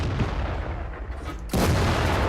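Heavy KV-3 tank cannon blast in World of Tanks, a single loud boom that breaks abruptly over a dense rumbling battle background and rings on.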